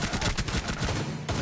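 Gunfire in Rainbow Six Siege rattles in a fast, continuous burst, loud and near, filling the whole moment.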